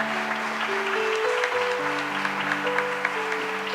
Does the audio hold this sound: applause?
yes